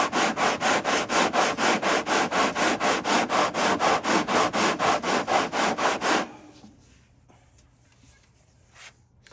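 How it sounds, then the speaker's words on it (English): A wooden guitar body is sanded against a curved radius dish in steady back-and-forth strokes, about two dozen rhythmic rasps, close up, then stopping into near quiet. "I'm just sanding the blue parts away."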